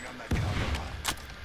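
Gunfire in Apex Legends: one sharp, loud shot with a heavy low thump, followed by a second brighter crack about a second later, over a steady game background.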